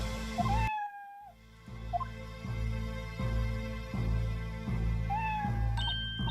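A cat meows several times in the Professor Layton vs. Phoenix Wright video game, rising calls standing out over a steady, pulsing game soundtrack, with a pause in the music partway through.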